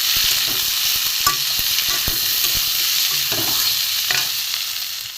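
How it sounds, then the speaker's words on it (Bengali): Chopped tomatoes sautéed and stirred in a pan, giving loud, continuous hissing sizzle broken by regular spatula scrapes and knocks, close by with no voices. "টমেটো কুচিটাও দিয়ে দেবো দিয়ে একসাথে আমি কষে নেব"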